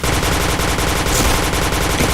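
Rapid bursts of automatic gunfire from the Point Blank shooter game, loud and continuous, dense rattling shots repeating without pause for two seconds, no talk over them.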